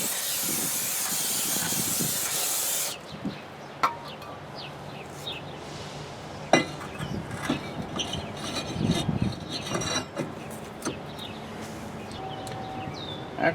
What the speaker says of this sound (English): Take a little brake parts cleaner and spray it down.